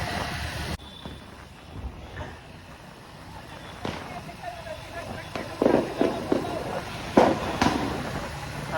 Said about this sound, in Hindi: आप लोग को ये पटाखों की आवाज़ सुनाई दे रही होगी